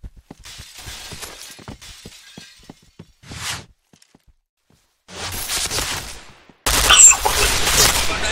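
Video game gunfire in a multiplayer shooter match: scattered shots and short bursts, a loud blast, then a near silence before heavy, dense rapid firing rises again and grows loudest at the end.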